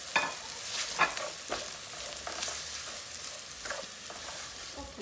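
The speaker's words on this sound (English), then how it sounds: "So we'll add all those spices in and give it a good mix." A spoon scrapes and stirs through sizzling spices—curry powder, turmeric and chili—frying for a Jaffna crab curry, with irregular close scraping strokes over a steady crackle of hot oil and no talking.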